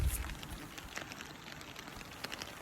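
Soft, steady rain pattering down in Ibaraki Prefecture, Japan, with scattered drops tapping a surface; quiet and continuous, with no voices.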